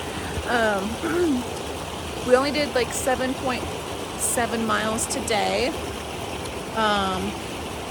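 Cold mountain water of Granite Creek rushes steadily beside a small campground, a constant broadband wash sitting beneath a person talking throughout.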